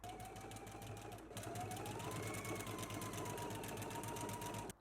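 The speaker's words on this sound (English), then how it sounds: "we can go ahead and stitch at a 5/8 of an inch seam allowance" A sewing machine runs steadily stitching a 5/8-inch seam on a McCall's 8448 dress, a quiet continuous whirring hum with a faint rising tone, alone and without voices.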